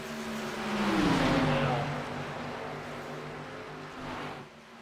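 Gen 4 race cars passing on the track at Indianapolis, a loud engine surge that sweeps down in pitch as a car goes by, then a steadier drone, with faint voices underneath.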